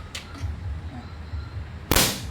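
Long foot-pump toy giving one sharp, loud pop near the end, after a stretch of soft pumping and background noise.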